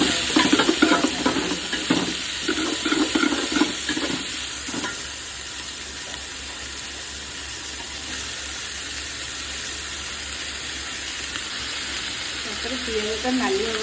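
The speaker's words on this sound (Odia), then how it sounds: "ପିଆଜଟା ନାଲି ହେବା ଯାଇକି ଭାଜିବା" Onions frying in a pan over caramelised sugar for an Odia mutton curry, a loud continuous sizzle with stirring scrapes early on and voices talking underneath.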